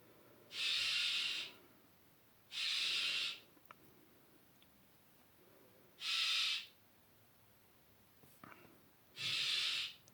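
Four evenly spaced, breathy bird calls, each about a second long, repeat with pauses between them, moderately loud over an otherwise quiet indoor background.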